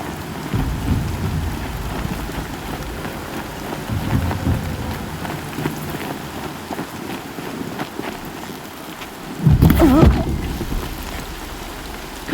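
Steady rainfall in the video game Horizon Zero Dawn, a continuous wash of falling rain with low rumbling beneath and a louder gust or thunder swell near the end, with no talking.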